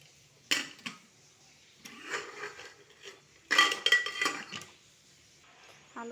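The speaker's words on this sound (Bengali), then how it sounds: "এরপরে কুকারের ঢাকনাটা আমি লাগিয়ে দেবো" A pressure cooker lid being fitted onto a cooker of potatoes, giving a few close metallic clanks and scrapes in short bursts, with one sharp clatter near the middle and quiet gaps in between.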